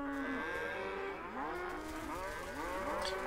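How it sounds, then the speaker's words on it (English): Cows in a grazing pasture moo repeatedly, long wavering calls overlapping from a moderate distance, with a faint rumble underneath. "Grazing pasture cows."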